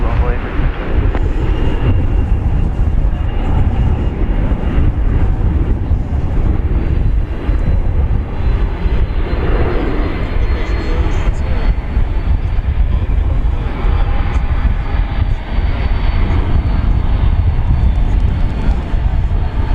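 A 23-year-old Boeing 767 at DFW Airport, a loud sustained jet engine roar with deep rumble holding steady at close range throughout, no speech.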